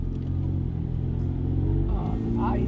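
Ferrari F430 engine droning steadily with a deep, continuous mechanical note heard from onboard the car, rising slightly toward the end as a voice cuts in briefly.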